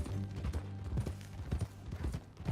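Rhythmic hoof clip-clops of a horse walking in a video game, steady and close, with a low ambient hum underneath and no talking.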